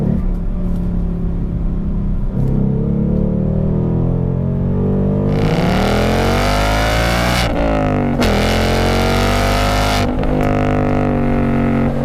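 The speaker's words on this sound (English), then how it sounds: "Whatever Ford has done to that exhaust system, as well as this engine with its super sharp intake sound, is great." A Ford Mustang GT Performance Pack V8 revs loudly and alone, its pitch climbing through several sharp rising sweeps with a raspy intake bark, dipping and surging again before settling into a steady high drone.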